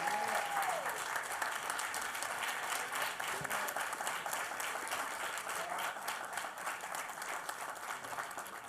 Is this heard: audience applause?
yes